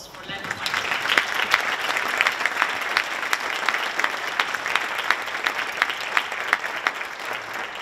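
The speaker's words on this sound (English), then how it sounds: "So may I ask you all for a round of applause for Lena Feichtinger." An audience at a joint breakfast event applauds steadily, with dense clapping sustained at moderate volume for several seconds before easing slightly at the end.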